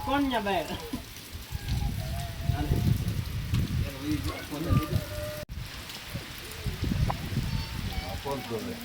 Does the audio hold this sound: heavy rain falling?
yes